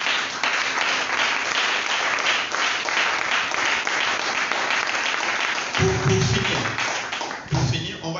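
A church congregation applauds and claps continuously for about eight seconds, a dense, steady roar of hands, with a few louder thumps near the end.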